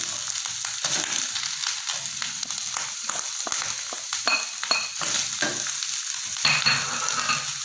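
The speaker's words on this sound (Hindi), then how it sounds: "प्याज को भी हमने ज़्यादा फ्राई नहीं करना, सिर्फ हम इसको सौटे ही करेंगे" Chopped onion and three green chilies sauté in hot oil in a pan, giving a steady close sizzle broken by frequent scraping stir strokes, with no talking.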